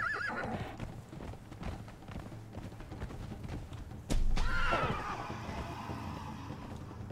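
A horse in Conan Exiles clip-clops along at a steady riding pace, then lets out a loud whinny partway through before the hooves carry on.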